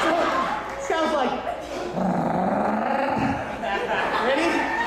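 A voice imitates a dog's growl, a continuous rough, rumbling snarl held for several seconds with slight rises and dips, close and loud.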